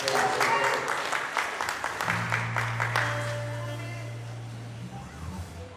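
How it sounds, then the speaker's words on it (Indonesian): A church congregation at a Sunday worship service claps for God in a burst of applause that thins and fades, while a low sustained tone and murmuring voices continue beneath it. "Tepuk tangan dulu dong buat Tuhan."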